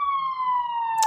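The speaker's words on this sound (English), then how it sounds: "So, hear the sirens." An emergency vehicle siren sounds as it approaches, a loud, steady tone that sustains and glides slightly downward throughout, with a brief burst of broader noise near the end.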